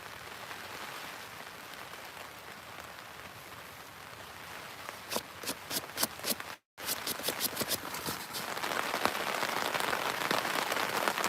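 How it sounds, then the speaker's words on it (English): Heavy rain pelts down during pole fishing on the Norfolk Broads at Martham Staithe, a dense steady patter with sharp tapping bursts partway through, a short dropout, then a heavier, louder downpour. "We've got 30+-mile-an-hour winds and heavy rain at the moment."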